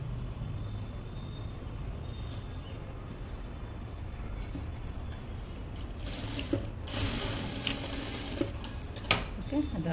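A sewing machine stitches a boat neck blouse as a steady low mechanical whir that runs throughout, with light clicks and a few sharper handling taps near the end.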